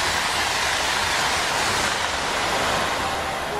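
A TGV high-speed train rushes along in a loud, steady, broadband roar with no breaks and no voices.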